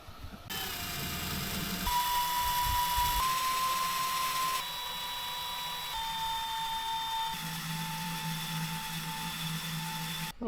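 A hand drill bores holes in a steel shipping container, a steady whine with shifting pitch droning continuously for about ten seconds, close and moderately loud with no talking.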